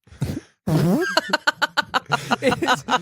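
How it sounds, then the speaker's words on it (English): Sound-effect fart played on a talk show, a short blat followed by a fast string of sputtering bursts and a rough trailing flutter, loud and close with no talk over it. "Corey, hit that fart"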